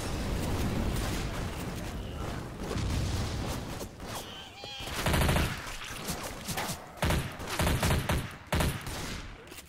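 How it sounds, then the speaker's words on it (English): Sustained machine gun fire from Left 4 Dead 2, dense bursts of rapid shots in the foreground that break into shorter choppy volleys, loud throughout with no speech. "machine gun"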